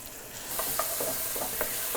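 Pancetta fries in a pan, a soft crackling sizzle that rises after a quiet start, with several light scrapes and taps of a spoon stirring it.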